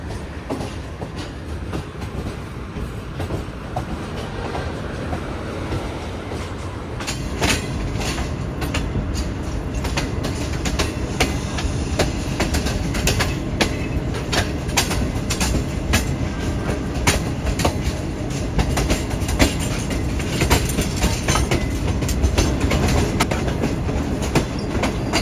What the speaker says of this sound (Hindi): फाइनली मेन लाइन पर चढ़ चुकी है ट्रेन